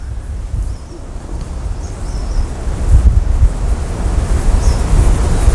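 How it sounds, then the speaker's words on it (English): Strong wind blows outdoors and buffets the microphone with a loud, continuous low roar that swells in gusts, with no speech. "Jeez, that wind."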